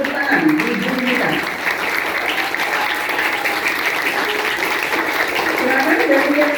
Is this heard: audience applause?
yes